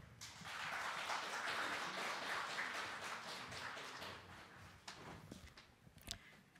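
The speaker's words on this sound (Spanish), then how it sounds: "para quien pido fuertes aplausos" Faint audience applause at a seminar on entrepreneurship, a soft wash of clapping that thins out into scattered claps and a few taps near the end.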